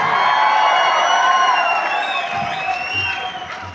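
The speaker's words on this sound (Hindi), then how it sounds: "तो जोरदार ताली और जोरदार हल्ला होना चाहिए दोस्तों" An audience at a success-story celebration event bursts into applause and cheering: loud, sustained clapping with whoops and shouts that gradually ease toward the end.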